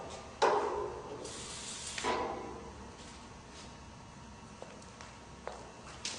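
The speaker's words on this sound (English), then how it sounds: "spray white lithium grease on all the areas where the nylon rub blocks would ride up and down" Short bursts of hissing white lithium grease sprayed from an aerosol can, one longer blast near the start followed by fainter clicks and brief sprays in a quiet room.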